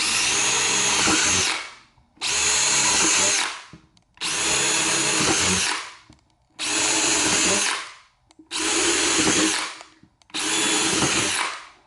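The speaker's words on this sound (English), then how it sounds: "I'm going to go ahead and pre-drill some of these corner holes" A power drill pre-drilling corner holes whirs in six sustained bursts of a second or two each, loud and close, with short pauses between them.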